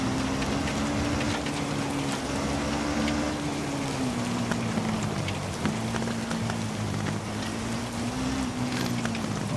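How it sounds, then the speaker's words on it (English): Steady rain pattering on surfaces in the Dakar 18 rally racing game, a dense continuous hiss over a low motorcycle engine drone that wavers slightly in pitch. "And with all this rain, there will be lots of water"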